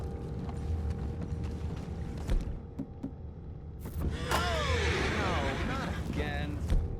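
Horses in a video game, their hooves clip-clopping steadily under creaking wagon mechanisms and ambient noise, with a voice speaking over part of it.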